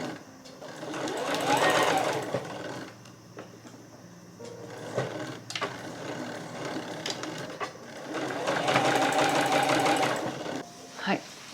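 A sewing machine runs in two long bursts of rapid mechanical stitching through Oxford cloth for a pouch, with quieter handling clicks and a voice speaking in the pause between.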